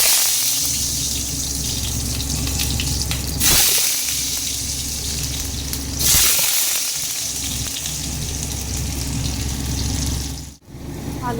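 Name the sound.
potatoes frying in a pan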